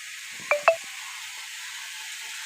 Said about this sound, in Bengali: ঝোলের জন্য জল দিয়ে দিলাম